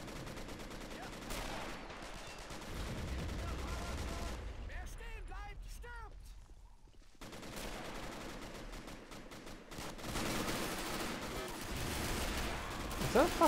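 Rifle grenades and gunfire in the WWII strategy game Men of War: Assault Squad 2, with dense rattling small-arms fire and booming explosions through most of the stretch, briefly thinning before the barrage resumes. Someone talks over it.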